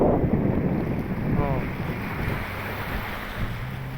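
Wind buffets the microphone over open water off Bataan, with a low steady boat engine and lapping waves beneath; a brief voice breaks in early on.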